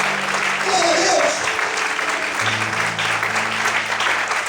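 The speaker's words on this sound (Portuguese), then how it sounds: "Quantos podem aplaudir e exaltar a Deus nessa noite?" A church congregation applauding during an evening worship service, a dense steady wash of clapping with voices mixed in throughout.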